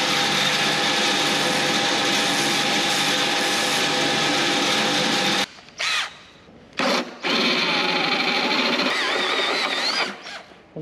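A loud, continuous battery-powered electric sander buzzes steadily, then stops and restarts in short bursts before running again.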